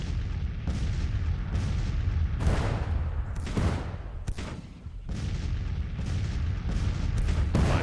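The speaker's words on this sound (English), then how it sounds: "That's a bloody big bombardment." A heavy artillery bombardment in the American Civil War strategy game Grand Tactician rolls on with repeated booming cannon blasts over a dense, continuous rumble of distant guns, loud and without talk.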